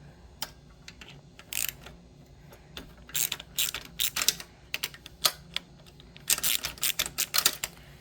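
Hand ratchet with a 10mm socket loosening bolts on a small engine, giving bursts of rapid clicking in several separate runs, close and fairly loud, with no talking.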